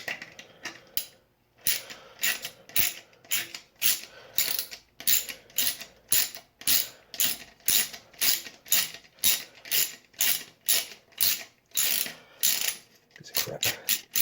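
A hand ratchet clicks in a steady back-and-forth rhythm while the bolts of a fan motor are backed out, crisp close-up pawl bursts repeating with brief pauses and no talking.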